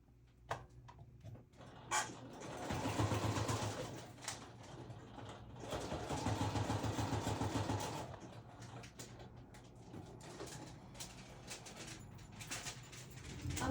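A home sewing machine runs in two bursts of steady whirring stitching, close and moderately loud, with clicks and handling noises between and after.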